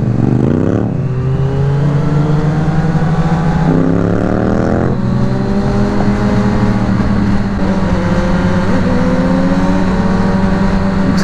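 Loud motorcycle exhausts from a group of bikes including a Suzuki GSX-R 750, Yamaha MT-07 and Suzuki Bandit, engines droning steadily with several sharp revving rises in pitch, close and continuous, no talking.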